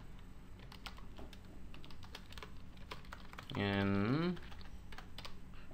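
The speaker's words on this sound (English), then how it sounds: "I don't know what the heck I was typing afterwards." Code is typed on a computer keyboard during C++ OpenGL programming, a quiet, steady run of close key clicks with a brief voice speaking partway through.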